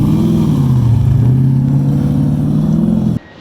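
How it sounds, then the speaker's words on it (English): Car engine revving steadily through a newly fitted exhaust combination, a loud, sustained droning rumble near the microphone that cuts off abruptly at the end, with no talking. "Finally got the right combination of exhaust bits on there."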